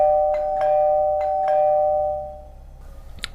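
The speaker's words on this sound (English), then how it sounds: "Then somebody began to ring the doorbell downstairs." A doorbell chimes several times in a quick irregular series, ringing out clearly against a quiet room before fading.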